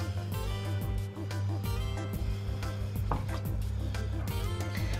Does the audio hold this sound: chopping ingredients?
yes